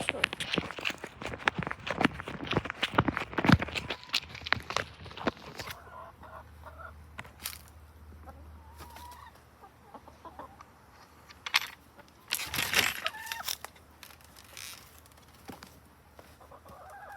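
Chickens cluck and call around a backyard chicken coop, with footsteps and brief human voices mixed in; the bird sounds are busiest early, then quieter intermittent clucks follow.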